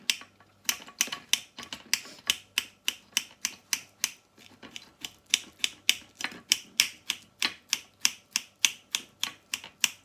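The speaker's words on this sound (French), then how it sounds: "Et je vais l'écraser à la fourchette." A fork mashes microwaved potimarron pumpkin in a mug, making about two dozen sharp, evenly spaced clicks and knocks, steady and close, with no voices.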